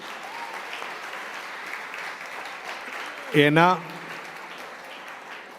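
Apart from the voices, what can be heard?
audience applause for six panel speakers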